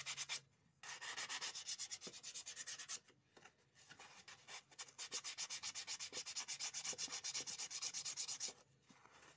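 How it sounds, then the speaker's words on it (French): Power sanding on a manual vise being restored, a loud, steady abrasive whir that runs in long passes, cutting out briefly twice and starting up again with a rapid, pulsing grind. "On va le poncer alors."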